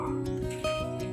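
A dog yips and whimpers briefly, close and fairly loud, with a voice mixed in.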